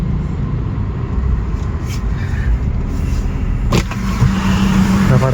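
A Fronx car pulls up on a Hyderabad street, its engine and road noise forming a loud, steady rumble that builds slightly toward the end, with a brief knock partway through.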